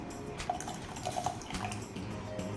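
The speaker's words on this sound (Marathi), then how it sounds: "आता यामध्ये आपल्याला केसरचं पाणी घालायचं आहे" Saffron water trickles and splashes gently into sugar syrup in a pan, with a few small drips and bubbling sounds, fairly quiet and close.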